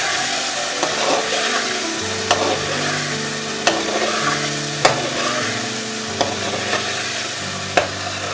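Chicken sizzling in a pan as it is stir-fried (bhuna) for tinda chicken curry, with steady frying and a spatula scraping sharply against the pan every second or so.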